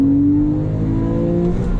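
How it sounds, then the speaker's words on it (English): A Porsche 997 sports car pulls hard under acceleration, its engine note a loud, steady rising drone heard close up from inside the cabin, with no talking. "this car's pretty quick"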